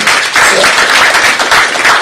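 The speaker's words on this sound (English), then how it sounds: "You might want to acknowledge with a big round of applause" An audience at a business school awards event in Goa gives a big round of applause, dense continuous clapping from a full hall, loud and close throughout.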